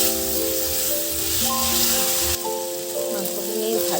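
Mutton pieces sizzle and fry loudly in a pan in a home kitchen, a steady crackling hiss throughout with faint tonal background sounds.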